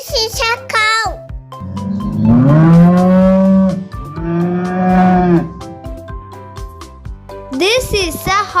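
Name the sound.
cow mooing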